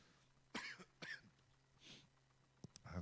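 Repeated coughing at a church youth service, two sharp coughs near the start followed by a throat-clearing burst and more short coughs at the end, fairly close against a quiet room with a low hum.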